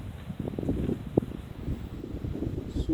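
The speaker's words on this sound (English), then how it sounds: "Super windy." Strong wind buffets the microphone outdoors on a gusty day at an air rifle shooting session, a steady low roar with rustling gusts swelling and easing throughout, close and fairly loud, with no talk.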